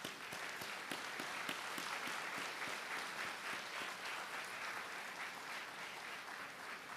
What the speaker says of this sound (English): give a big round of applause for their wonderful parents and lovely teachers